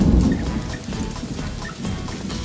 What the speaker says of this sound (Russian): ура, грибной дождик.